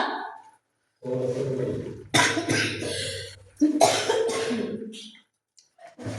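A person coughs in several harsh, close bursts separated by short pauses, with some throat clearing.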